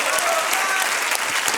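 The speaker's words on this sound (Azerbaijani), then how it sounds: "Səni istəyirəm ayaq üstə alqışlayın Murad." Loud, dense applause from a television talent show audience after an Ave Maria performance in the Səs Azərbaycan semi-final, an unbroken wash of clapping close up.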